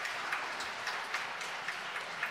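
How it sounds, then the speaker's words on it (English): Audience applause at the Xiaomi Mi Mix Alpha smartphone launch event, a steady, fairly faint patter of clapping from a distant crowd, continuous and without talk. "I know that you are not giving a big enough applaud because it is not fantastic enough"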